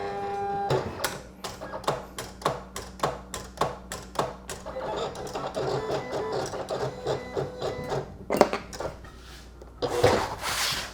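A vinyl cutter makes a test cut in smooth heat transfer vinyl, its close mechanical whirring broken by a rapid run of sharp, regular ticks and clatters as the blade carriage moves, with no voices.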